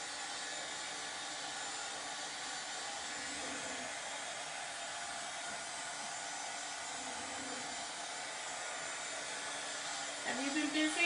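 A hair dryer runs continuously on a holiday craft project, a steady airy whine held at an even level throughout, with a slight shift and louder burst near the end.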